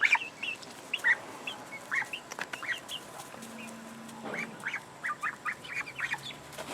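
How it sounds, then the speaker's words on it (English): Two Chinese geese and other farmyard fowl on a homestead give repeated short honks and clucks at close to moderate range, scattered irregularly over a soft background. "These are my 2 Chinese geese"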